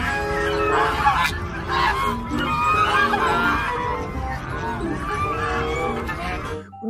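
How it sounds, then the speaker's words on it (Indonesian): Goose honking amid a busy, noisy scene of farm animals being cleaned, with repeated calls over continuous background chatter and other fowl noise. "Di sini ada seekor angsa."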